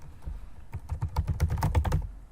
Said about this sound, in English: And I can type as many things in here as I want